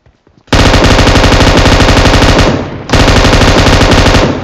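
Automatic weapon fire in PUBG Mobile: a loud, close, rapid stream of shots starting abruptly, a brief break, then another sustained burst, no talk.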